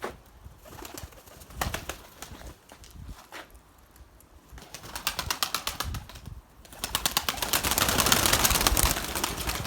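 White pigeons in a Turkish loft coo and flap their wings, with bursts of wing clatter and shuffling building into a dense, close flurry toward the end.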